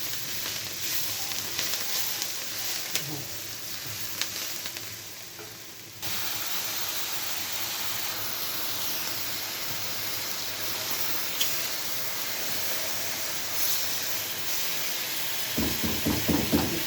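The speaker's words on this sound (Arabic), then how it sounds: "المكرونه المحمره لازم يبقى ايدي فيها ايه تقليبه على طول عشان ما تتشعوطش" Pasta frying in a pan on the stove, a steady loud sizzle and hiss running throughout, with a sharper crackle near the end as it is stirred continuously to brown evenly.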